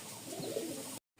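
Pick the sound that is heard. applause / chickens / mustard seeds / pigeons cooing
pigeons cooing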